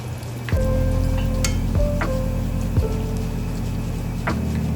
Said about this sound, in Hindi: हल्का गोल्डन होने तक हमने इसे फ्राई करना है।